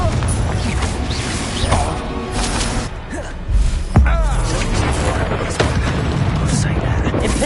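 A Confringo fire spell detonates in Hogwarts Legacy, a booming blast loud over a dense mix of game effects and music, with a heavy impact near the middle.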